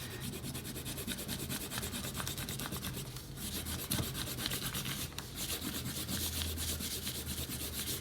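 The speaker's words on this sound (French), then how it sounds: "Ok, on peut gommer nos traits de construction." An eraser rubbing away pencil construction lines on paper, a rapid continuous scrubbing with quick back-and-forth strokes, close and fairly quiet, with no talk.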